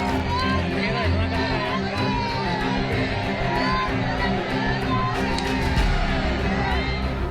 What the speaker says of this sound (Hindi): सड़क के दोनों किनारे बड़ी संख्या में लोगों की भीड़ जमा हो गई